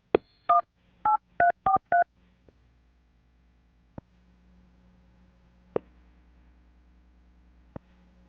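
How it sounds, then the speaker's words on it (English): A telephone number dialed on a touch-tone phone: a quick run of about eight clear DTMF beeps in the first two seconds, followed by quiet line hiss with a few faint clicks. "I'm going to dial his phone number right now"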